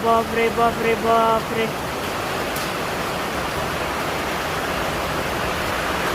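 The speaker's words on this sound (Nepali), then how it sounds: "ल यता चाहिँ पानी एकदम बबाल परेछ है" Heavy rain pours steadily at night in Kathmandu, a dense broadband hiss filling the space, with brief tonal music or a voice over it at the start before the downpour continues alone.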